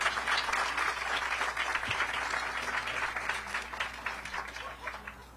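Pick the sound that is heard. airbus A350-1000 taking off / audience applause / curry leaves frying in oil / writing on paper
audience applause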